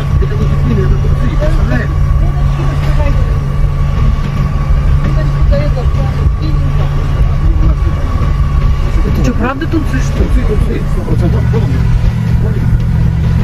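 Steady low drone of a motor on a yacht out at sea during tuna fishing, running continuously under excited conversation between several people.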